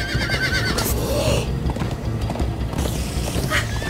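Horses gallop and neigh in the video game Minecraft Story Mode, a loud whinny rising over continuous clip-clopping hoofbeats amid busy game sounds.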